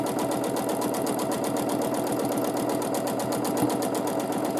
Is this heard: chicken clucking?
no